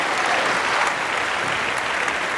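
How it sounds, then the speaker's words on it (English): Vigorous, sustained applause from an audience for contestants in a ChatGPT competition, a dense continuous patter of clapping at steady loud level with no speech. "we need to give another round of applause to our contestants"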